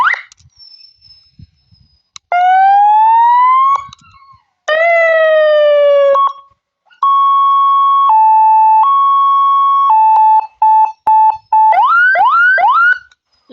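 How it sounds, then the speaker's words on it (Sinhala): A siren horn plays its seventh tone setting, loud electronic wails: rising sweeps, then alternating two-pitch steady tones and rapid chirping whoops in separate bursts with short gaps, no talk. "ඊට පස්සේ සයිරන් හෝන් එකේ සවුන්ඩ් 7ක් තියෙනවා"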